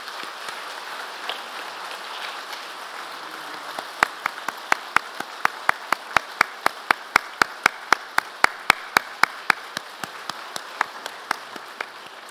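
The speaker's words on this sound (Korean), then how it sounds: "축하의 박수 보내주시기 바랍니다." A church congregation applauds in celebration of an honorary doctorate during a thanksgiving service, soft diffuse clapping that turns into a run of sharp, evenly spaced single claps, fairly quiet and without talk.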